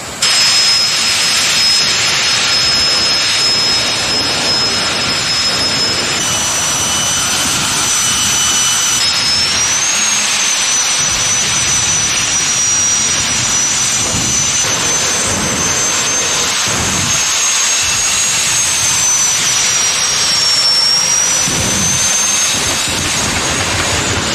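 A jet dragster's engine roars continuously with a piercing high whine as raw fuel pours into the afterburner, a loud, sustained blast of turbine noise that barely wavers throughout, at a jet funny car drag racing event.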